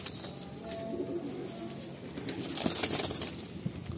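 Madrasi breeder pigeons in a cage give soft, low cooing, faint and intermittent, with light rustling and a few louder bird sounds toward the end.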